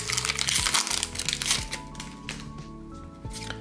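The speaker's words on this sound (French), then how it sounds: "Ça fait trop bizarre d'ouvrir des boosters d'avant" Pokémon Dragon Majesty booster card pack wrappers crinkle and crackle close up, a dense burst of plastic crumpling that thins into scattered small crackles over a faint tonal background.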